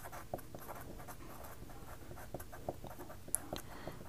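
Pen scratching across paper while an equation is written by hand, a quiet close run of short strokes and taps at an uneven rhythm with no talking.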